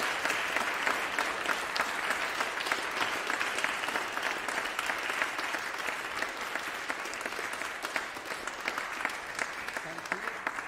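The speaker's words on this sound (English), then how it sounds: "Let's give them a big round of applause." Sustained applause from an audience after a music masterclass session, dense and steady throughout, with faint voices mixed into the clapping.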